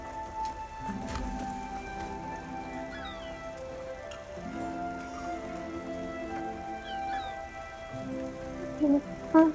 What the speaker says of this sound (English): My cat is crying at me.